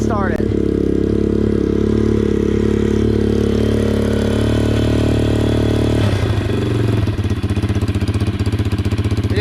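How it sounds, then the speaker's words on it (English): A pit bike idles steadily with a freshly installed carburetor, its low, even engine drone running close and loud for the whole stretch, with a brief wobble in the middle. "So the idle is definitely set too low."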